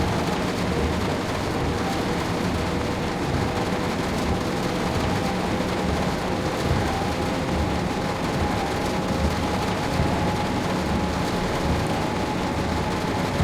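Steady rain drumming on a train during a drive in the Train Sim World 5 video game, a dense, even hiss that holds at constant loudness throughout with no speech.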